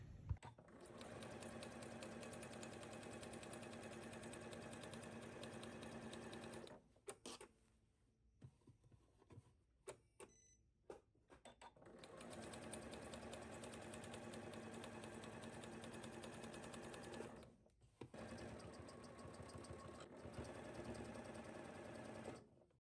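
A sewing machine stitches fabric in two long, loud, even runs of rapid needle clatter, separated by a quieter pause with small handling clicks.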